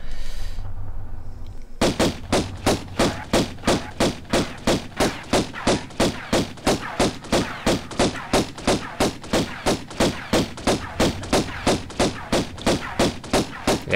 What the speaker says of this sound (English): I'm just getting shot at